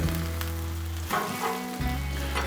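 Hash browns sizzle steadily on a Blackstone griddle, a continuous frying hiss with a brief dip and clatter midway before the sizzle resumes loudly.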